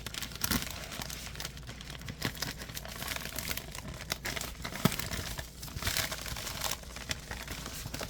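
A large plastic bag is handled and unwrapped during an unboxing, a continuous close crinkling and crumpling with sharp crackles and tearing-like rustles throughout, with no voices.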